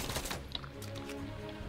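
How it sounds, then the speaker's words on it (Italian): Rapid cracks of gunfire in the video game Fortnite aimed at the player, a dense burst of fairly loud shots in the first half-second, followed by steadier game noise and faint tones. "Mi stanno sparando a me."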